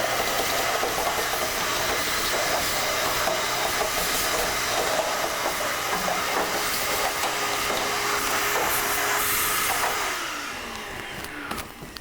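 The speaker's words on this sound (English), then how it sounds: "we're going to hit it once more with a vacuum" A vacuum cleaner sucks up dust from a treadmill with a loud, steady roaring whoosh and airy hiss, continuous for most of the span before easing off and dropping in level near the end.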